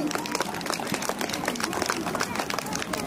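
An audience at a school skill performance day claps to welcome a guest, a dense patter of hand claps filling the hall with faint crowd murmur and voices underneath.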